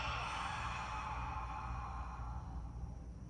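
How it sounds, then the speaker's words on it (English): One long, steady breath exhaled through the mouth during breathwork, a close, breathy whoosh that slowly fades as the air runs out. "2 inhales through the nose to fill all the way up, and 1 long exhale through the mouth"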